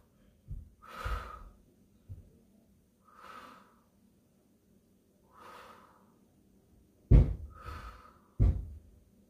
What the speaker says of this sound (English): Nice controlled breathing.